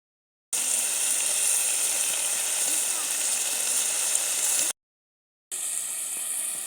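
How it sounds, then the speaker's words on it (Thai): Shellfish stir-fry in a hot pan with a loud, steady sizzling hiss that cuts off briefly and then resumes just as strongly, heard up close. "ผัดหอยผัดหอย"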